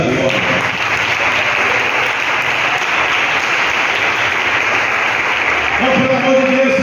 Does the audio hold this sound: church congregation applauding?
yes